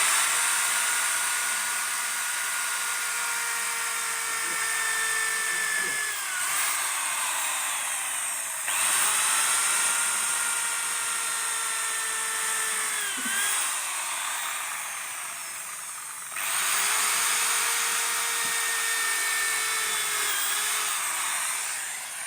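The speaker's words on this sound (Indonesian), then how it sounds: "kita bor dulu ya. Tuh, kita bor." A drill bores through the glued spine of a library book being prepared for rebinding, a steady high whining buzz in three long bursts separated by short pauses.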